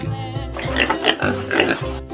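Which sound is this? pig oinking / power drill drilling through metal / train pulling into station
pig oinking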